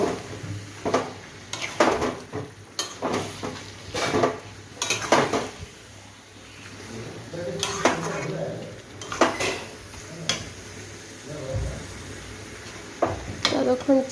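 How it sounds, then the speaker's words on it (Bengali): Chicken for kosha being stirred in a metal pan: repeated clanks and scrapes of a spatula against the pan in irregular bursts, with a faint sizzle underneath. "এবার আমি চিকেনটাকে নাড়া দিই।"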